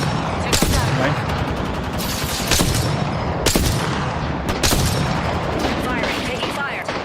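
Gunfire in a Genshin Impact livestream game session, rapid bursts of automatic shots and a few heavier booms, loud and close, with brief pauses between volleys.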